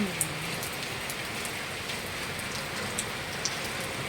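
Steady rain falling on a rainy morning in a Filipino home setting, a continuous soft hiss with occasional brighter drip ticks, moderately close and even throughout, with no talking.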